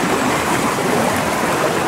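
A creek runs swollen after heavy rain, its loud, steady broadband rush of water continuous and close throughout with no voices.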